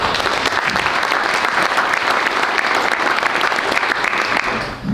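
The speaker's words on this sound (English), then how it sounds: "How about another round of applause for" An audience at a Springfield, Oregon State of the City event claps in loud, sustained applause that carries evenly for several seconds before tapering off at the end.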